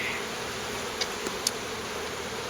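Honeybees buzz at an open hive during an inspection, a steady dense hum filling the background with a few faint clicks, continuous and moderately loud without talk.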